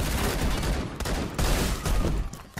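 Shotgun fire in the online shooter Phantom Forces comes as a loud, dense burst of rapid shots close up, with a short gap before the firing resumes.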